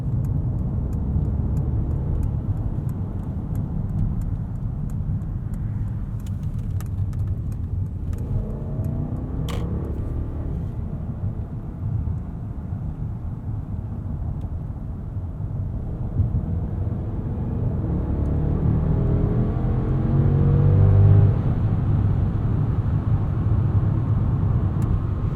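A 2021 Mercedes-Benz S580 4MATIC in Sport Plus mode, its engine and road noise a steady low drone inside the cabin that swells as the car accelerates late on.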